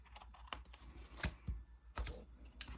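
Scissors snip through Happy Planner paper in a few quiet, crisp cuts, heard close and alone.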